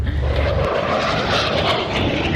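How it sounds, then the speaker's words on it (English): Airplanes fly past at an air show with a loud, continuous engine roar that fills the scene, steady and close with no voices over it. "it is so much fun to watch the airplanes, and they're so cool to watch, but they are really loud"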